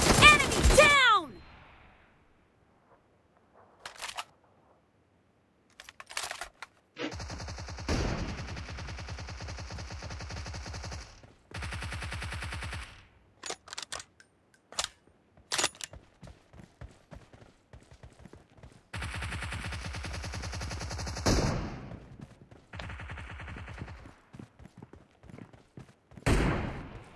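Gunfire in the battle-royale game PUBG, sounding as scattered sharp shots and short bursts separated by silent gaps, with game announcer voice lines and other game effects mixed in.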